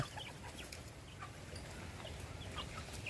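Chickens cluck and squawk close by while someone catches them, a busy, continuous flurry of farmyard fowl calls with no talking.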